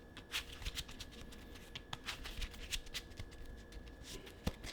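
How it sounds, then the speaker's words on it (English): A deck of trading cards being shuffled by hand, a soft riffling, flapping patter in quick irregular bursts, quiet and close. "Show you guys that I'm shuffling."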